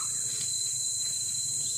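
Kuliglig insects chirping in unison, a steady high-pitched shrill drone, constant and fairly close, with no voices.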